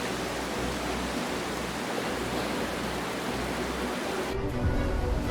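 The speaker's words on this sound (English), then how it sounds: "Huge waves roared against the Pacifica Pier, causing the entire structure to shake before the endless power of the ocean." Huge winter ocean waves crash against the Pacifica Pier in a dense, continuous roar of surf with no voices.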